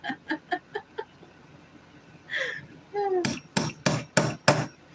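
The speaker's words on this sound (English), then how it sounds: "bear with me for the hammering for a bit" Five loud, sharp hammer strikes in a steady rhythm close by, preceded by brief clucking and calls from a chicken or rooster nearby.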